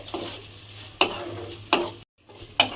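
Boiled fish being stirred into spices in a pan: a soft sizzle under three or four distinct scraping strokes of a utensil, evenly spaced, with a brief silent gap near the end.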